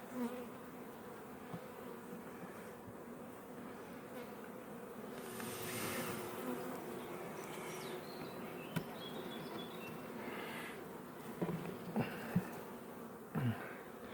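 Steady dense buzzing of young grey honeybees in a hive, a continuous drone with occasional louder passes close by, quiet overall and without speech.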